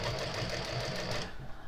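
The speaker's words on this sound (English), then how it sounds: "this is just a straight stitch machine" A straight stitch sewing machine, a plain model with no walking foot, runs steadily, its fast even needle rhythm continuing alone until it slows and stops near the end.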